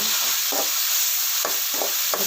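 Tomatoes frying with onion in ghee in a pan for chicken pulao, a steady hiss of sizzling oil punctuated by three soft spoon strokes.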